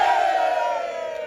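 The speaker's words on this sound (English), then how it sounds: "And of course, a few cheers." A crowd cheers at an Army-Navy game gathering in Foxborough, a loud, sustained chorus of shouting voices heard briefly and close up.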